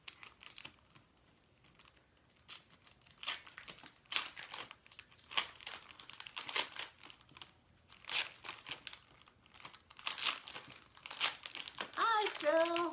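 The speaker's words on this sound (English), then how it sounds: "Open up this package." Plastic packaging being torn open and crinkled by hand, with bursts of crackling rustle and tearing at close range, irregular and busy throughout, with occasional brief voices in the background.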